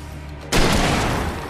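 A single heavy hunting rifle shot in Alan Wake, a sudden loud blast that rolls into a long booming tail.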